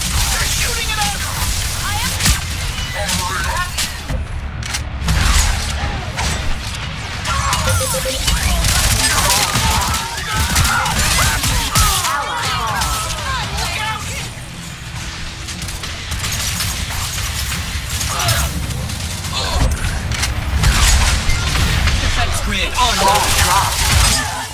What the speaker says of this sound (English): They're shooting it out.